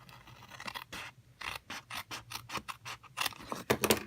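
Scissors cutting through a paper template in a steady series of crisp snipping strokes, close and fairly loud, with a brief pause early on and no speech.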